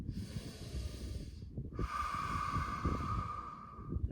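A slow, deep breath during a yoga class, drawn in close to the microphone with an airy hiss that builds and holds steady for a couple of seconds.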